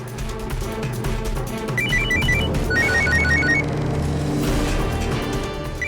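A telephone rings in a Hindi TV drama scene, its repeated electronic trill bursts standing out over a thick bed of dramatic background music and ambient sound.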